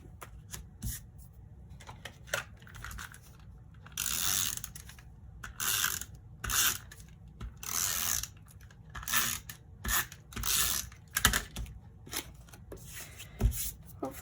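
An adhesive applicator being run across a paper card while card stamping gives repeated ratcheting, clicking bursts with short pauses between them, close and fairly loud with no speech.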